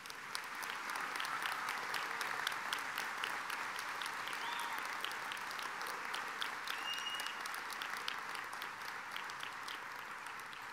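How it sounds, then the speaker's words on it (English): Sustained audience applause fills a commencement ceremony at Central Ohio Technical College, a steady, dense wash of many hands clapping at even loudness from start to finish with no voices over it. "Ladies and gentlemen, I think we can give them a round of applause."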